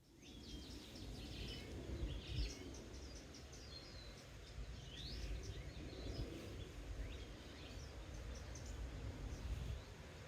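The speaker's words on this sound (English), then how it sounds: "listen to the bird song that I got to enjoy on this beautiful morning in Tucson" Scattered faint bird chirps and song ring out on a morning in Tucson, Arizona, repeating irregularly above a steady outdoor background rush.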